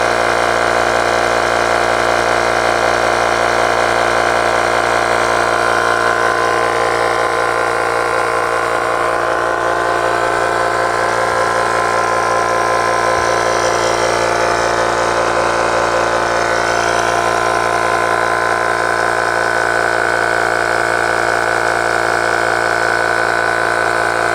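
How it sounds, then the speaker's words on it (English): A tire inflator pump from an emergency puncture kit runs continuously, a loud, steady motorized drone with rhythmic pulsing that holds without pause throughout, no voices. "it will start pumping air into your tire"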